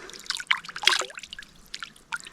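River water trickles and splashes gently at a campsite riverbank, with close, irregular liquid drips and small gurgles over a quiet background.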